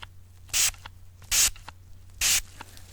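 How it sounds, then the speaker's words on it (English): Three short, bright hissing bursts of alcoholic face cleanser from a spray bottle, evenly spaced and close, with quiet gaps between them. "And I'm going to spray this on your face."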